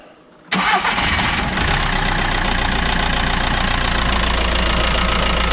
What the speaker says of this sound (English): So fire up please, Grace.